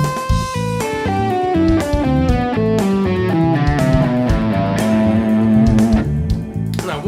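An A Dorian seven-note scale played over a bass note as modal improvisation material, sounding as a clear run of distinct pitched notes stepping one after another over a held low tone, steady and fairly loud with no talking.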